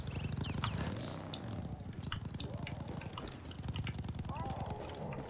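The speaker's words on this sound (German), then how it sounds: "Und hier ist auch irgendwo eine Katze." A cat purrs in the video game Far Cry New Dawn, a steady rapid rumbling pulse running throughout beneath game sounds, with scattered clicks and people talking over it.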